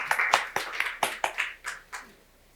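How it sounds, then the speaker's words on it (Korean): A church congregation claps during a Sunday service, about eight distinct, sharp claps in an uneven rhythm that thin out and fade toward the end. "우리 박수로 축복하면서"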